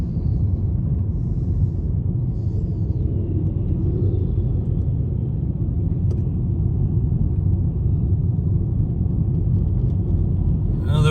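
A car starts moving again in slow traffic after a wreck on a Florida road trip, a steady low road rumble and engine drone from inside the cabin, continuous and even throughout.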